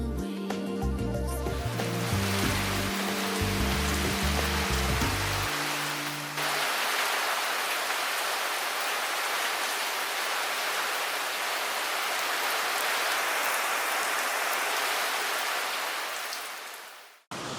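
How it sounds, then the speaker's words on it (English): Steady rain falls aboard a cruising sailboat in Vanuatu, a broad, even hiss of drops that continues for many seconds after music fades out early on, ending abruptly. "It has been raining all day."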